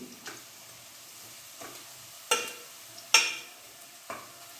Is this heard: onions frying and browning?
yes